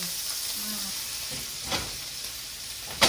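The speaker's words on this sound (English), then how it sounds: "The butter's going to brown in a hot pan" Butter sizzles in a hot pan with a close, steady crackling hiss, punctuated by a couple of sharper pops or utensil clinks.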